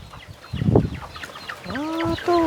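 Chickens in a coop cluck and squawk close by, with one bird letting out a rising, drawn-out call toward the end over steady background noise.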